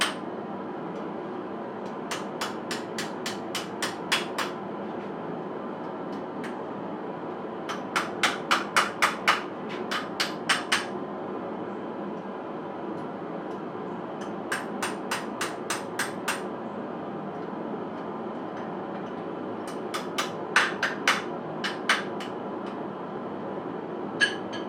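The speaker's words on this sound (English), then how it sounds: "then whack the stock on around into a T shape." Hot steel stock is hammered into a T-handle hex wrench in a forge, with clusters of sharp, ringing hammer blows in quick bursts separated by pauses, over a steady background hum.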